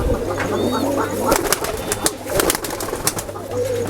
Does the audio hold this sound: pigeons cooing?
yes